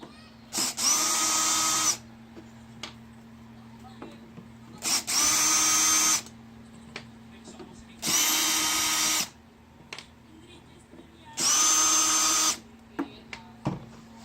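Four separate bursts of a cordless power drill driving out screws on a 2014 Maserati Ghibli SQ4 headlamp, each burst a steady whine lasting about a second, with small clicks and handling noise between them.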